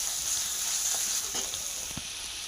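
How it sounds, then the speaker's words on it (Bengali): Water is poured into a pan of sizzling fried spice paste for a Bengali-style fish curry, giving a loud, steady hiss that holds evenly through the moment, with a few soft bubbling pops. "জল অ্যাড করে দিচ্ছি, পরিমাণ মতো জল দেবো, কারণ মাছগুলোর সঙ্গে সেদ্ধ হবে।"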